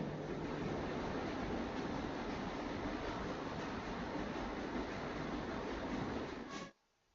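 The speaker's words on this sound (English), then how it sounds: "We have reached the end of the line where this train will terminate." A train runs steadily on rails with a broad, continuous rumbling roar, close and even, that cuts off abruptly near the end into near silence.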